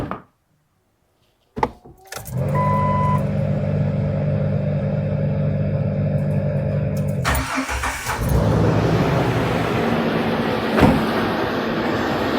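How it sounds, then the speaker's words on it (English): After a brief silence, the air compressor for the locker on a Jeep Wrangler LJ kicks on with a steady, tonal mechanical whir, then shifts into a louder, rougher rushing drone that continues to the end. "that compressor should have kicked on. And great news. It did. It's down there spinning."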